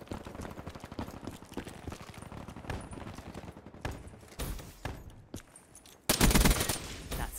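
A silenced RPK machine gun fires rapid muffled bursts in The Division, with several separate volleys and a louder burst near the end, over faint game ambience.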